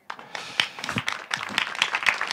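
Applause from the audience at a film festival press conference: a short burst of many hands clapping, fairly close and steady, with no talk.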